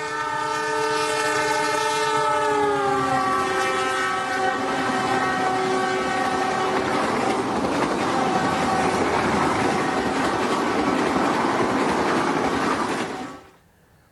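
A train passes on railway tracks, the horn sounding in strong descending tones over a steady loud rumble of wheels on rail that holds for about thirteen seconds before cutting off.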